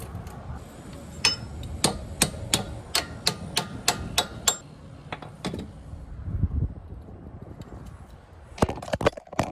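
Sharp metallic hammer blows ring out in a rapid, fairly regular series, pause, then resume in a few quick strikes, close and crisp, while installing a dual steering stabilizer on a 2002 Ford F250.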